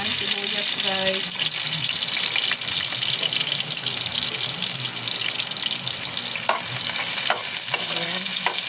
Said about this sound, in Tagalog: Pag brown na yung bawang guys, isunod na natin yung sibuyas.